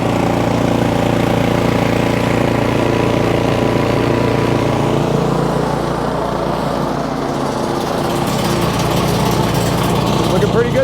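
A Cub Cadet 3X snowblower engine runs steadily at idle after its auger gearbox is lubricated, a loud, continuous mechanical drone with a low throbbing hum.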